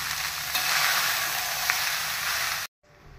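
Coriander, chili, lemon and salt paste being mixed into rice in a hot pan, giving a steady bright sizzle with a couple of light scraping touches before it stops abruptly.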